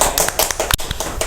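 Rapid, sharp claps ring out close and loud in an uneven burst of applause during an Indonesian podcast, with no talk over them.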